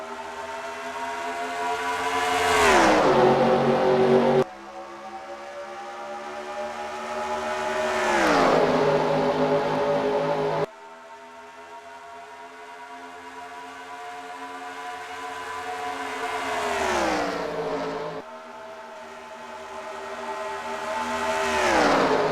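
Race cars in a NASCAR video game at Atlanta roar past in repeated loud engine sweeps, each rising then dropping in pitch as a car passes close by and fades, with no talk.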